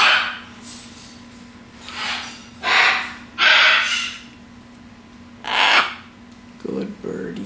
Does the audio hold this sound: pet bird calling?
yes